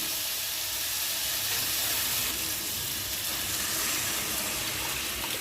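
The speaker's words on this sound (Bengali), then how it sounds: "একটু জল দিয়ে দিই" Water splashes into a hot pan of cooking curry, raising a continuous loud hiss and bubbling steam sizzle that stays level throughout, with no speech.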